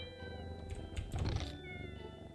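A cat meows in the cat room of the video game Pocket Mirror, with a couple of short, close calls over soft game music and a faint background hum.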